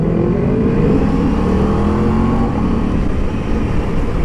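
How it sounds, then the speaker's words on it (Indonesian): An Aprilia RS660 sport motorcycle exhaust drones steadily and loudly while riding, its engine note rising slightly as it pulls, with constant road rumble underneath. "Cuman enak loh suara knalpot itu."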